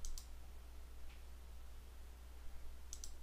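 Mouse clicks in Civil 3D software: two or three faint, sharp clicks spaced across a quiet stretch with a low steady hum beneath, no talking.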